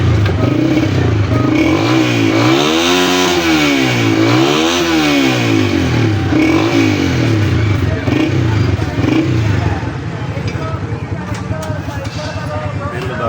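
A tuned-up motorcycle engine in a Punjab village is revved with the throttle in several rising and falling surges, loud and close, then settles to a rougher idle while people talk nearby.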